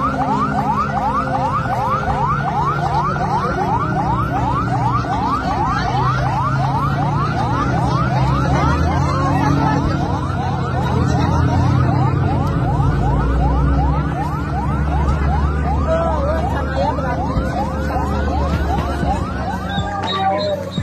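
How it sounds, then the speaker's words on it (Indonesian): An ambulance siren wails in a steady, fast repeating sweep for the full stretch, loud and close, over a low traffic rumble, tied to a fatal bus crash in Subang, Indonesia. "Ambulan"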